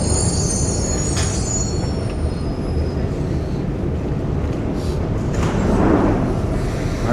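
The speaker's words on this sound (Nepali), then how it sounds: "हामी चाहिँ अहिले अन्डरग्राउन्ड ट्युबमा छौँ heading towards next destination." Riding a London Underground tube train: a loud, steady rumble of wheels on rails fills the whole stretch, with a high squeal near the start, heard from inside the carriage with no talk.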